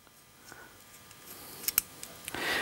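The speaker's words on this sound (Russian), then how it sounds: "берем отвертку, выкручиваем жиклер" A screwdriver unscrews the carburetor jet on a Suzuki Djebel motorcycle, giving a few faint, sharp metallic clicks and small scrapes close by over a quiet room hiss.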